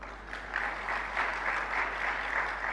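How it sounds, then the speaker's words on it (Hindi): An audience in a religious discourse hall claps steadily, a sustained wash of applause heard from a moderate distance with a low hum beneath and no talking. "तालियां तो बजा दी"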